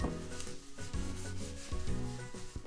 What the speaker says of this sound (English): I'm going to kind of use my hands like this and break into small pieces.